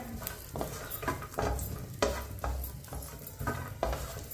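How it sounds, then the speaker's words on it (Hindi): Dry fruits roast in a pan over a low flame, with a soft, steady sizzle broken by repeated scraping and stirring strokes of a spoon against the pan at a slow, even rhythm, close and alone. "चूल्हे की आंच को मैंने कम रखा है, कम आंच पर इसे भूनेंगे।"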